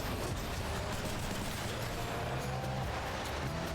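Dense video-game gunfire rattles continuously over a steady mechanical drone, loud and sustained with rapid overlapping shots throughout.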